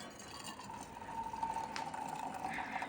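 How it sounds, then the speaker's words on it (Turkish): Hot water pours steadily into a teapot, a continuous liquid rush with a faint rising tone as the vessel fills. "Suyumu koyuyorum."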